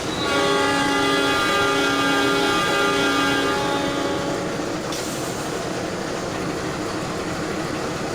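A locomotive in Trainz Simulator departing Bangil station, Indonesia: a loud, steady engine drone with a sustained horn tone in the first half, then continuous rumbling rail noise as it pulls away.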